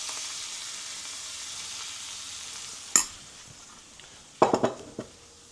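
Flour cooks in butter for a roux in a pan, giving a quiet, steady sizzle with a sharp utensil clack near the middle and a few more knocks and scrapes of stirring toward the end.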